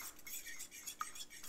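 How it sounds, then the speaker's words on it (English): Eggs beaten with a fork in a bowl, a quick rhythmic series of light metallic clicks and taps, close and quiet, with no talking. "And then I always just mix them up with a fork."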